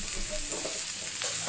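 Fried chicken pieces are stirred in a pan, giving a continuous close sizzle with soft scraping of the spoon and a brief louder scrape near the end.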